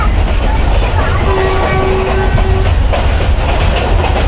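Millat Express passenger train rolling toward Khewra, a steady loud rumble of wheels on rail with a continuous dense roar throughout and a faint tonal whine mid-clip, no speech.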